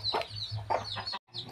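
A white hen clucks in short bursts among her eight newly hatched chicks, two black and six brown, close and brief with soft peeping around her.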